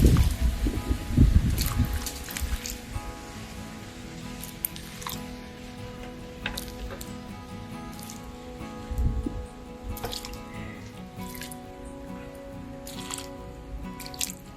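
Water is poured from close by onto newly planted callaloo (amaranth) stalks in soil, with a brief splashing burst at the start and then scattered drips and trickles that stay quiet, with no talking.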